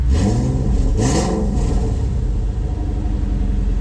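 A 2003 SVT Cobra's engine idles and revs with a steady low rumble while warming up, a brief rising rev near the start, then settles into an even drone.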